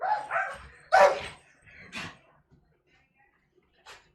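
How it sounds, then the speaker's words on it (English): Dogs aged five and eleven wrestle outside, giving a few short barks and yips in uneven bursts followed by quieter gaps, fairly close and without voices over them. "The dogs are outside wrestling"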